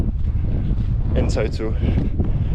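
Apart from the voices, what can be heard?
wind on a hilltop plateau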